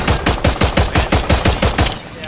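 Loud, close gunfire in a video game, about a dozen evenly spaced heavy shots in a steady rhythm, with speech faintly mixed in.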